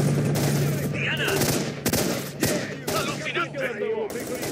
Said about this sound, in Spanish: ¡Disparos arriba a la izquierda!